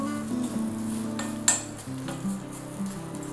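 A spice mixture sizzles steadily in a hot pan while being stirred, with a soft scrape and a single sharp metallic clink partway through, close by and with no voices.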